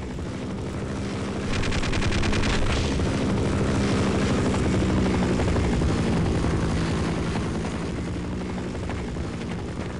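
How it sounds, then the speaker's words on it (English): Helicopter making strafing runs in Half-Life, a loud, continuous rotor drone with rapid machine-gun fire rattling through it, heard alone with no talk. "helicopters making horrible strafing runs on me"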